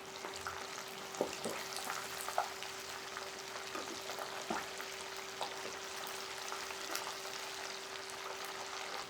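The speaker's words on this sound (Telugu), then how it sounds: "ఇవిగో మన లాలీపప్పులు చక్కగా వేగాయి" Chicken lollipops deep fry in oil with a soft, continuous bubbling sizzle and occasional small pops, fairly quiet and steady over a faint constant hum, no voices.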